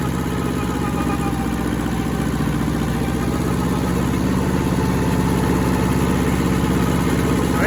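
A rusty Hinomoto tractor's engine runs steadily while mowing tough growth, a loud, close, even mid-pitched drone with a rapid regular pulse throughout.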